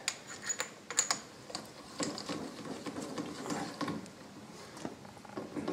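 A nut is run down by hand on a Hewland gearbox, giving a quiet, close run of small metallic clicks and ratcheting taps.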